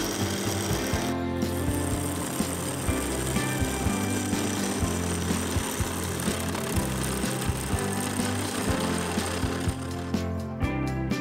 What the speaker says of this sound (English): The bowl gouge made short work of removing it.